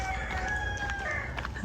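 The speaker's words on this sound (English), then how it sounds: "Roosters on every island." Rooster crowing on a Tahitian island, a single drawn-out crow heard from a short distance over steady outdoor background noise.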